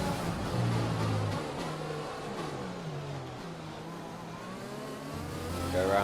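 Formula 1 race car engine in F1 2020 at the Vietnam round, a high-pitched whine rising and falling through gear changes while running in another car's slipstream, loud and steady throughout.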